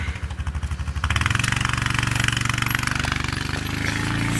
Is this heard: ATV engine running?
yes